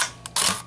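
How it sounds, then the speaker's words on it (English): A Minolta X-700 film SLR fires its shutter at 1/500 second, a single sharp, close mechanical click-and-clack of the shutter and mirror, loud against a quiet background. "1/500"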